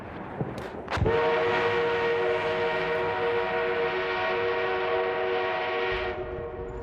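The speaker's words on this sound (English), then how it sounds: "The enemy is being reinforced with an armored train." An armoured train sounds a long, loud horn or whistle that holds for several seconds, following a couple of sharp clanks, then cuts off into quieter rumbling.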